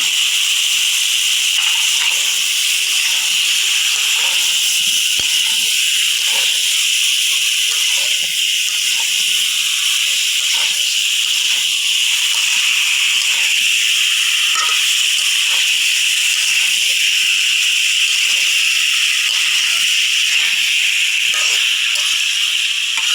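Vegetables sizzle steadily in a pan as they are sautéed in spice paste, a continuous loud hiss with occasional soft stirring scrapes, close up and without talk.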